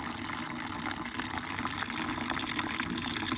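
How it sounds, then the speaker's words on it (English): Distilled water pours into a car radiator during a flush, with a steady, fairly loud rushing and gurgling stream that runs without a break and has no talking over it. "So we'll fill it up with distilled water, do 2 flushes of distilled water"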